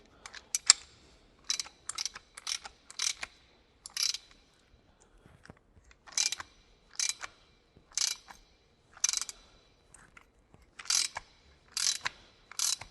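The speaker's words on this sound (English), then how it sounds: "This is a 7/8 inch wrench and socket that you will need." A 7/8 inch wrench and socket ratcheting on a bolt of a sickle bar mower, quick clicking bursts repeated in short sets with quiet gaps, close and crisp.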